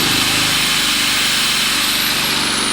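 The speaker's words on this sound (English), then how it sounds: "Plug my grinder into it." An angle grinder runs off a Predator 3500 inverter generator from Harbor Freight, making a loud, steady broadband whir over a low engine drone. It continues unbroken and close with no talk.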